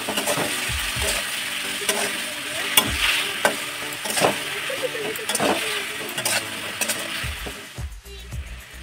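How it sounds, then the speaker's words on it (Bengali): Cut potatoes, drumstick stems and tomato frying in hot oil with black cumin seed, a loud continuous close sizzle broken by repeated clattering stirs and scrapes of a spatula, easing off near the end. "এখন দিয়ে দেবো কেটে রাখা আলু, ডাঁটা ও টমেটো, আর দেব স্বাদ মতো লবণ"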